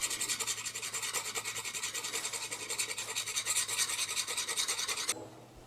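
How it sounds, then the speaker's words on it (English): A chisel is sharpened with quick rhythmic rasping strokes, a steady back-and-forth scrape repeating several times a second at close range, which stops abruptly just past five seconds and leaves a faint hum. "Trying to get the chisel a bit sharper."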